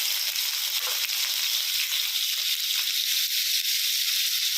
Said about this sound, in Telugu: ఇవన్నీ ఆయిల్లో వేసుకున్నాను చట్నీ కోసం